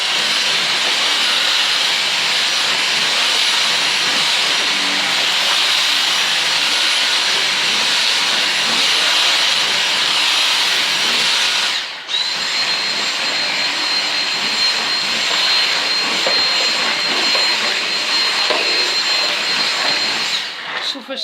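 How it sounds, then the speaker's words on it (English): A Dyson V6 cordless vacuum cleaner runs on max mode over a rug, giving a loud, continuous high-pitched whine and rush of suction that briefly cuts out and restarts midway before roaring on steadily. "perhaps if we put it on the max mode it will clean them up"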